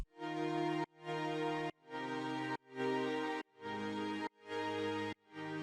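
Layered synth strings swell beneath big future bass drop chords, pumping in a steady sidechained rhythm of about seven sustained, gated chord hits with dense bright harmonics and a solid low end, played alone without voices.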